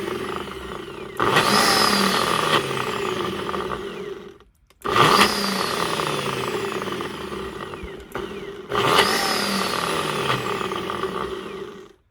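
Countertop blender grinding pinto beans in its jar, running in three loud, steady bursts of several seconds each with brief pauses between, the motor whine shifting as the beans churn.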